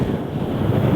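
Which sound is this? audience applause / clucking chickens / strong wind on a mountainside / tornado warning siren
strong wind on a mountainside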